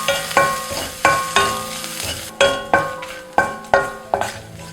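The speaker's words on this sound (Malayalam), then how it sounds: "5-6 ചുവന്നുള്ളി അരിഞ്ഞതും ഇഞ്ചി, വെളുത്തുള്ളി എന്നിവ നുറുക്കിയതും ഇട്ട് മൂപ്പിക്കുക." Sliced shallots, chopped ginger and garlic sauté in hot oil with curry leaves for a raw mango rasam. A spoon scrapes the pan in about eight even strokes over a soft sizzle, close and clear, with no talking.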